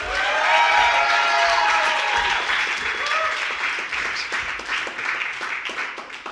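A company all-hands meeting crowd bursts into loud applause with scattered cheers and whoops for an executive taking the stage, the clapping sustained and gradually thinning over several seconds.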